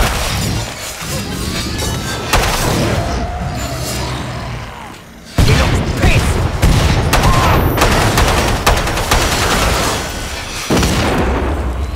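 Loud, close gunfire in Killing Floor 2 comes in rapid bursts and single shots, with sharp booming cracks and brief pauses between volleys.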